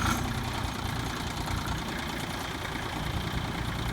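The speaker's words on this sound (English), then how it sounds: "we're going to start these machines up, and we're going to try it at an idle" Small diesel engine of a sub-compact tractor idling at lowest throttle, a steady low rumble with faint knocking that holds even and close for the whole stretch, no talk over it.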